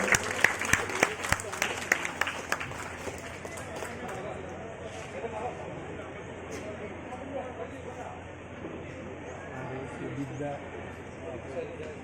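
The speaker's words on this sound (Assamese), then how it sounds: "হাত চাপৰি অকণমান দিলে ভাল লাগিব।" A crowd at a college award ceremony in Pandu College claps in a lively burst of applause as someone is invited to the stage, fading after a few seconds to quieter room murmur and scattered sounds.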